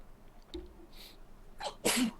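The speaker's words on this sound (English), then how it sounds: "I'm waiting for my nose to make sure it's not going to sneeze anymore" A single sharp sneeze with a brief intake of breath before it, close to the microphone and loud against a quiet background.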